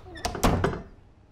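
A door closes in a radio soap opera scene, a quick cluster of two or three wooden thuds and a latch knock, fairly close, with nothing else around.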